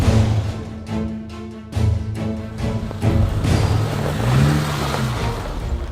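A Suzuki Samurai climbs a snowy gold mine hill in first gear and low range, its engine revving loudly and unevenly, rising and falling under load, up close with no talk.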